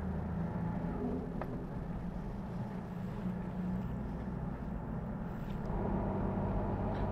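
A car driving on a desert gravel road in Mongolia heading up a valley toward a mountain pass, a steady low engine and road rumble with wind noise, fairly quiet and continuous, no talking.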